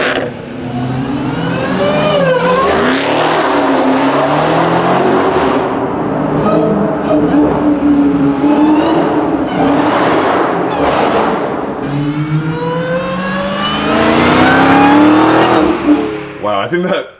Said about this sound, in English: We have dual exhaust, single exit on each side. So speaking of, let's go ahead and take a listen.